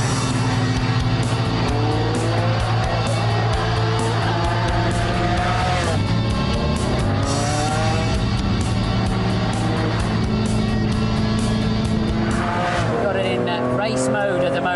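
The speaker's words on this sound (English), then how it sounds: "Glorious wail from that V12 Ferrari engine." A Ferrari V12 engine wails at full throttle on a racetrack in race mode. The loud, high-pitched note climbs steadily, then drops sharply at each quick upshift, and the sweeps repeat through the run.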